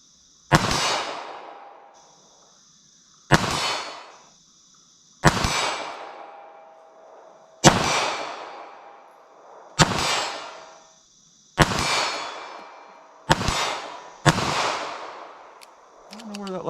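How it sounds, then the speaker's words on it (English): Eight sharp .380 ACP pocket-pistol shots in slow fire at an outdoor range, spaced a couple of seconds apart, each a loud crack with a ringing decay; no talk between them. "I'm just going to slow fire these things and just kind of see how they shoot from 25 yards"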